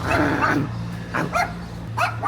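A small dog gives a few short, high yips and barks, close by, with faint background noise between them.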